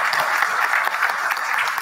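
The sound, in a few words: audience clapping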